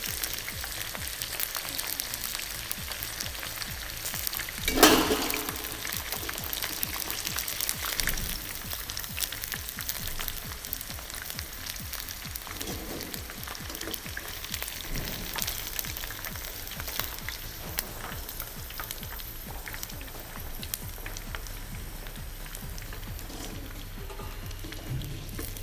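Chicken pieces for Chinese chilli chicken deep-frying in hot oil until golden and crisp, a continuous dense sizzle and crackle with a sharper burst partway through, heard fairly close without speech.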